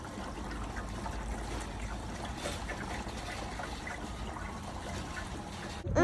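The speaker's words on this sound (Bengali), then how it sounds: "এখানে রয়েছে কৃত্রিম ফাউন্টেন, যেখানে ওই জলের আওয়াজটা না ভীষণ সুদিং লাগছিল" An artificial garden fountain gives off a steady, even trickle of falling water that fills the whole stretch at a constant level, ending in a short bump of handling noise.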